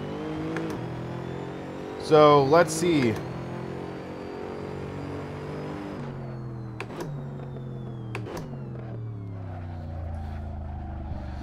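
A GT3 race car engine revs and shifts through long gears around Laguna Seca in Assetto Corsa, a steady droning tone stepping down with each gear change, with one sharp high rev burst early on; a voice talks over it.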